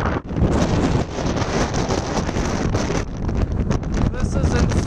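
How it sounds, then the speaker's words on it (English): Strong desert wind buffets the microphone in Namibia's Damaraland, a loud, continuous roar with gusty surges throughout, heard while people move straight into the headwind. "The wind is hectic, we're going straight into the wind."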